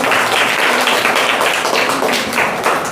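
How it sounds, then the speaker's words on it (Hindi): Children at a school science fair applaud their teachers, a dense and steady burst of clapping that fills the whole stretch at close range. "सभी बच्चे अपने टीचर के लिए ताली बजाएंगे।"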